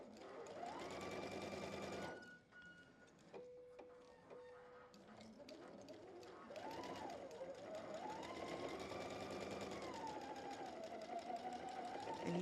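A sewing machine stitches quilt fabric in rapid, steady bursts, slowing and pausing briefly midway before resuming its close, continuous mechanical chatter.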